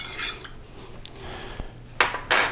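A utensil clinks and scrapes against a slow cooker pot while stirring a sauce mixture for pot roast, a few close, bright knocks and rattles with no talk.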